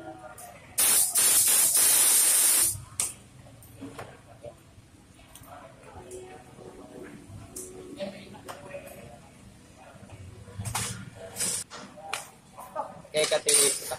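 Aerosol lubricant sprayed onto the joint of a motorcycle hand-starter switch during a starter relay repair, one loud hissing burst of about two seconds near the mic, followed by light metallic clinks and quiet handling under talk.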